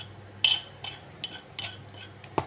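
Pieces of chicken panée being tossed with spices in a bowl, a few light clinks and scrapes of a utensil against the bowl spaced irregularly, close and fairly quiet.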